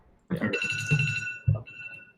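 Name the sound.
alarm ringing to mark the end of the show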